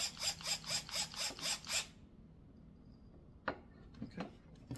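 A screwdriver ratchets rapidly as it tightens a screw during assembly of a wooden kids table, giving a fast series of clicks that stops, followed by a few scattered handling knocks.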